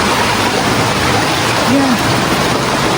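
Rushing water from a powerful mountain waterfall holds a steady, close, broadband roar throughout. A brief faint vocal sound rises over the spray midway.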